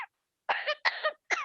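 A pet bird imitates a human cough: three short raspy coughing bursts in quick succession, close and distinct, with no speech.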